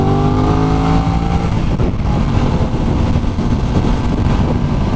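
An Aprilia RS660 motorcycle accelerates hard on a busy city ring road, its engine rising through the revs in steady climbing pitches, loud and close, with surrounding traffic and wind noise underneath and no talk.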